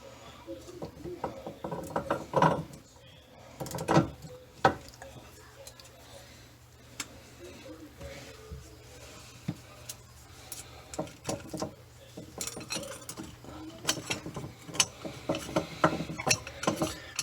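Faucet mounting nut being threaded up and hand-tightened beneath a sink during a farm-style waterfall faucet install, giving scattered ratcheting clicks and small metallic knocks, close by and fairly quiet, with occasional talk.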